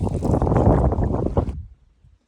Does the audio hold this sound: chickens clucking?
no